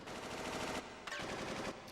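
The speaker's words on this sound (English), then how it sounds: "Oh, nice gunfire." Sustained rapid gunfire from the video game Final Fantasy VIII rattles continuously, with a brief break partway through, fairly quiet under a dense game soundscape.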